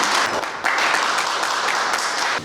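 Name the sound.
audience applause welcoming a speaker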